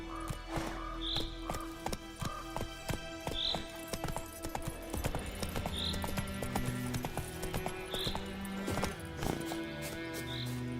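Roach, a horse in a video game, gallops with a brisk, clear clip-clop of hooves and occasional whinnies, over a bed of tonal game music.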